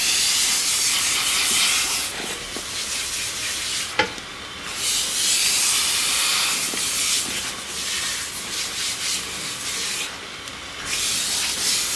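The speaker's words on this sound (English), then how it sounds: "The steam okay? It's not too much in your face, right?" Steady, close hissing steam from a hair-washing setup fills the background without pause, with soft rubbing and faint water movement riding on top and a brief click partway through.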